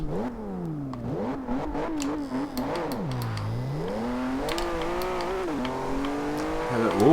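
A 2015 Volvo S60 Polestar engine in the video game Forza Horizon 2, rising and falling through repeated revs and gear shifts with a clear sweeping pitch, while someone talks over it.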